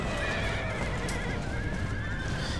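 Horses neigh and whinny over a dense, continuous rumble of hooves and battle noise in Empire: Total War, cavalry against pikemen, loud and unbroken throughout.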